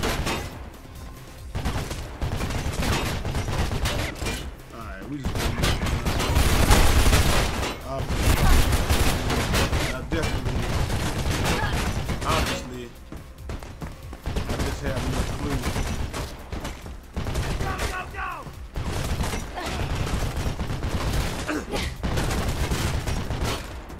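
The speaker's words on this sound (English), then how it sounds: "Damn gunfight." A gunfight in the Mirror's Edge video game: dense, sustained bursts of gunfire and fusillades, loud and close, with brief lulls between volleys.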